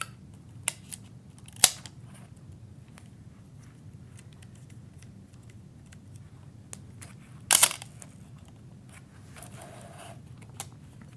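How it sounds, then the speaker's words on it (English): Someone winds 35mm film into an SLR camera. Quiet mechanical clicks and ratcheting are scattered through the clip, with a sharper burst of winding near the middle, all set against faint room noise. "Now I'm going to wind it, take it up."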